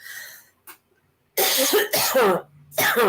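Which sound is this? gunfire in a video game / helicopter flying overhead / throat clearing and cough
throat clearing and cough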